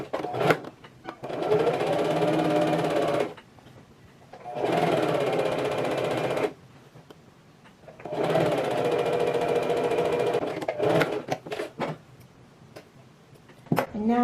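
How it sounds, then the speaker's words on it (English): A sewing machine stitches the folded seam allowance and facing of a strapless drop waist dress in three steady runs with quiet gaps, close and fairly soft, followed by a few clicks and handling noises. "you're going to do a stitch right along the line here."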